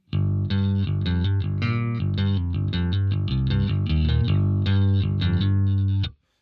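Bass guitar played through the Line 6 Helix Cougar amp model, a run of sustained, distorted notes with a chorus-like shimmer and heavy low end, loud and continuous for about six seconds before stopping abruptly.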